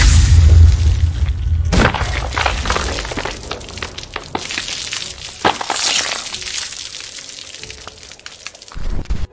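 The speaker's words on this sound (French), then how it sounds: "L'explosion de tête" Gory head explosion effect in a film, a heavy booming blast followed by wet crunching and splattering debris, loud and close, then trailing into scattered cracks and rumbles.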